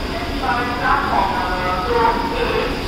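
Steady rumble and rattle inside the restaurant car of a moving Indian train, travelling in Kutch district, fills the background; someone talks over the continuous, fairly loud rolling noise.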